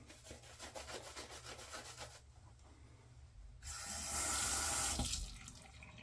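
Water is worked into a very soft shaving soap lather: a wet brush rubs and swirls rhythmically, then a short loud rush of running water comes in before the brushing resumes. Nobody speaks.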